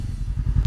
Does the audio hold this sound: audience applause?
no